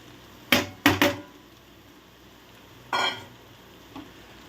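Cooked, cut blood pieces are sautéed with onions in oil in a pan, giving a few sharp stirring scrapes and clatters near the start and again later, with faint sizzling between them and no talk.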